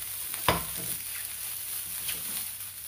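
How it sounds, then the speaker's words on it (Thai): Vegetables for fried rice are stir-fried in a pan without oil, with close scraping stir strokes over a soft, continuous sizzle. No one talks. "แล้วก็เอามาผัดง่ายๆค่ะ"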